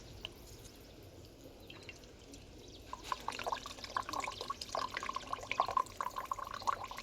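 Coconut water pouring into a glass outdoors at a farm, starting as a faint trickle and turning into a steadier stream of drips and splashes over the last four seconds, quiet and close.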